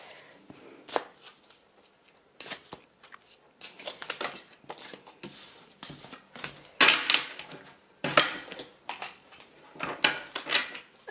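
Tarot cards are shuffled and handled close by in a series of crisp, papery riffles and slaps, with irregular bursts and brief pauses between them.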